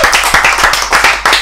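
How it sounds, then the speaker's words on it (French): Audience clapping at a quiz match, a general-knowledge contest between two teams in a club: a dense burst of hand claps, loud and close, with several sharper peaks, heard alone without talk. "Alphonse Biraghi, 30 points, ça mérite des acclamations."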